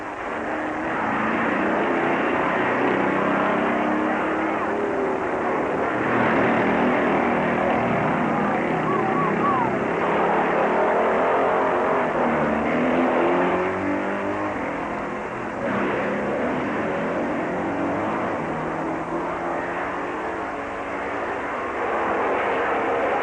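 Race cars at the 1958 Catalina Grand Prix roar through a curve toward the finish line, a continuous loud engine drone swelling and fading as they pass, with a voice talking faintly at times.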